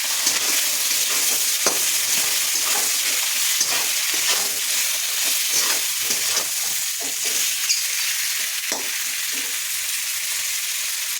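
Fish heads sizzle loudly in a pan with salt, turmeric and onion, a constant bright crackle of frying broken by occasional stirring scrapes.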